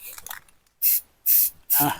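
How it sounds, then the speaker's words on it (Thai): Three bursts of anti-rust spray paint hiss onto the welded joints of a steel fish cage frame, each short, loud and close, with a soft voice speaking briefly before the first. "นี่ครับสเปรย์พ่นเลย"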